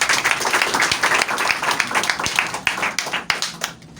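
Congregation clapping at a church service, brisk irregular handclaps close by, fairly loud and continuous before fading at the end.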